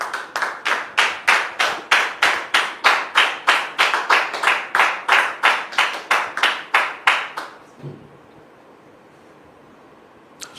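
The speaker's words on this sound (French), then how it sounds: "Sous vos applaudissements, s'il vous plaît" Rhythmic synchronized clapping from a studio audience on a talk show, about twenty even beats in a steady tempo, then an abrupt stop followed by near silence.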